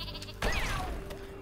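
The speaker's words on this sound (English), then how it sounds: "No, it's a black sheep." Black sheep bleating in the artillery video game Worms WMD, one wavering cartoonish bleat that rises sharply out of a low background hum and fades over about a second.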